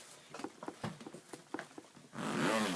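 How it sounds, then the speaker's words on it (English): A big, heavy-duty zipper on a bag opened in a string of quick, uneven ticking pulls, ending in one longer, louder rasping zip, close up with no talk. "It's got this big heavy duty zipper."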